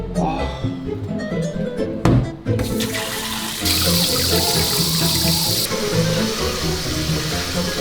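Tap water runs steadily into a kitchen sink while raw chicken wings are washed by hand, a continuous splashing rush with people talking over it.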